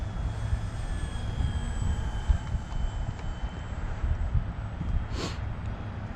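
Small RC model airplane in flight, a steady buzzing motor drone held at a constant distance over outdoor wind noise.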